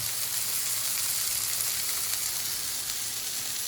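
Purple onion frying in a pan for homemade burgers makes a constant, even hiss and crackle of hot oil, steady and close throughout with no talk.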